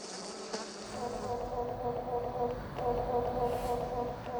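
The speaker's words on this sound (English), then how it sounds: "she has recorded the buzzing of bees as they sip nectar" Bees buzz steadily while sipping nectar from flowers, a continuous close insect drone with slight rises and falls and no voices.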